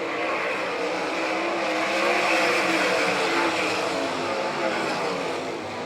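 Sprint-style race cars of the All Stars vs NCRA series roar around a dirt track in Doniphan, Nebraska, a dense, steady engine drone filling the whole clip with slight swells, with an announcer's voice talking over it.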